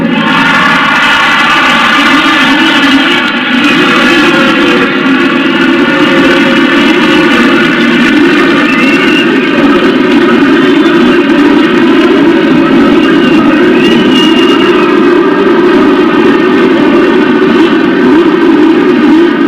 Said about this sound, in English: Looks like everybody has gotten their engines underway.